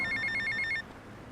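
A payphone at an airport terminal in GTA Vice City rings in a quick series of sharp electronic trills for under a second, then cuts off into faint background hum.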